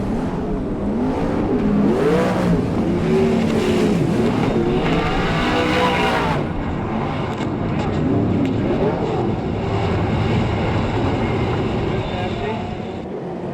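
Sprint cars of the California Lightning Sprints racing at Bakersfield, a loud sustained roar of several engines rising and falling as cars sweep past and through a corner, with an announcer talking over the noise.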